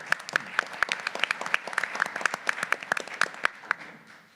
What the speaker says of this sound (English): Give Don a round of applause.